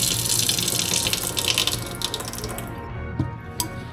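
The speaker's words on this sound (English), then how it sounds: "open the spigot and relieve the pressure in the lines" Water rushing out of an open outdoor spigot after a shut-off valve is closed to relieve line pressure, a steady close splashing hiss that thins toward the end with a few clanks.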